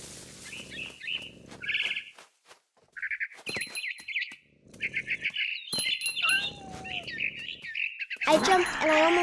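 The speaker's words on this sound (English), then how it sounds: "Then I heard chirping outside my window. It was a barn swallow going back to her nest." Barn swallow chirps in What Remains of Edith Finch come as short, bright twittering bursts scattered through the game scene, mixed with other game sounds and a voice speaking over parts of it.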